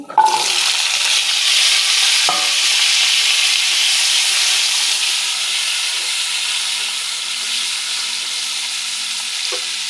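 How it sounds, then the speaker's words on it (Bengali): Cut potatoes frying in oil in a pan with five-spice seasoning, a loud, close hiss that flares sharply as they hit the oil and then settles into a steady sizzle, with a few faint clinks and no voices. "আলু ভাজা হোক"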